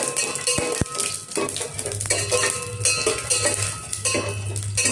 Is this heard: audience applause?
no